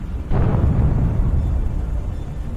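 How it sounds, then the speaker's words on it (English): A Javelin missile detonation tears apart a burning Russian tank, a sudden loud low boom that rolls into a sustained rumbling roar for a couple of seconds. "The vehicle burns for a while before being literally torn apart by the detonation"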